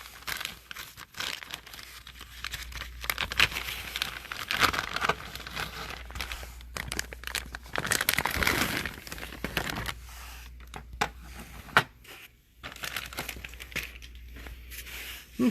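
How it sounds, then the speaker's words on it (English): Plastic packaging being unwrapped from a Genesis Mini console: close, continuous crinkling and tearing of plastic with a few louder rustling bursts and brief pauses, no talk. "And unwrap this thing here."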